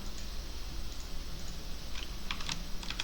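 Someone enters a number on a computer keyboard during front-end coding work, with a handful of light, close key clicks clustered toward the end over a steady background hiss and no speech.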